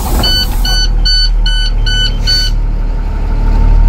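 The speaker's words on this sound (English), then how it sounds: "So now I will start my bus." A PGCPS school bus is started: a steady row of electronic warning beeps runs over the cranking, then the engine settles into a loud, continuous idle rumble. No one talks.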